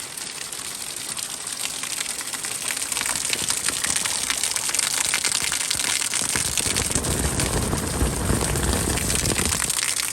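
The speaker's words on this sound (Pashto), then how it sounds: "بارانه نور هم په شیبو شیبو راوورېږه" Heavy rain pours steadily over a rural village in spring, a dense, hissing wash of drops that grows louder after the first few seconds and stays constant to the end, with no voices.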